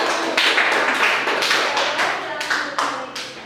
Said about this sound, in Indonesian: tepuk tangan dulu buat Ali dan Indra.